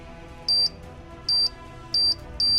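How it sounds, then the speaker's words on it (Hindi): A cartoon robot's timer beeps four times in short, evenly pitched electronic tones, loud and close, spaced irregularly over a faint background music bed with no talking. "बटन दबाते ही रोबोट में टाइमर स्टार्ट हो जाता है।"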